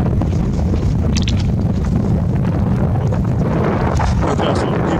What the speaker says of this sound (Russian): Вот ветер начался небольшой.